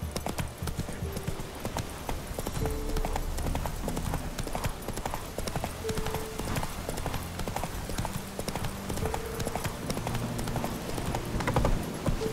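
Roach, Geralt's horse in The Witcher 3 on PS5, gallops with rapid, continuous hoofbeats, close and prominent over soft game music, with no speech.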